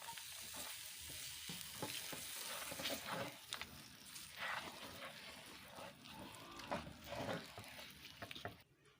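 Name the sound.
stirring peanuts into hot melted jaggery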